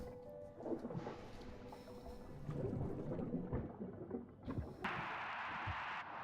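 Stormy weather in the video game Thalassa: Edge of the Abyss, with low rumbling thunder, gusting wind and a sudden hiss of rain or spray near the end, fairly faint and without speech.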